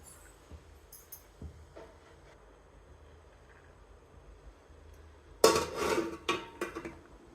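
A metal pot lid set down over a pot of boiling sweet corn in a home kitchen, heard as a brief loud clatter followed by a few lighter rattles as it settles, after a quiet stretch.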